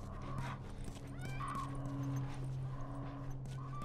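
A horse in The Last of Us video game whinnies and snorts softly near a university setting, short tonal calls rising over a quiet steady background hum with faint shuffling.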